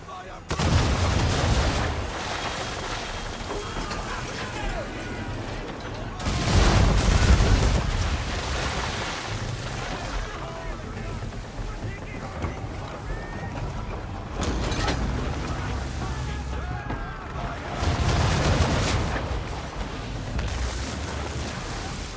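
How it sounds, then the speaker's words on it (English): Ship cannons firing chain shot in the video game Assassin's Creed III during a naval battle at sea, several heavy booming volleys spaced apart over a rolling background of water and wind. "Chain shot, Connor!"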